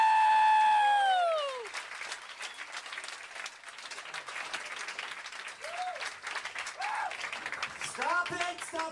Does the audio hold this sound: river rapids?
no